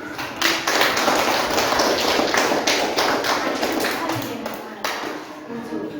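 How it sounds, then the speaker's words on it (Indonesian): A school class claps hands together in rapid, steady unison, a dense run of sharp close claps that fills the room and keeps going for several seconds before easing. "Kita tepuk tangan dulu."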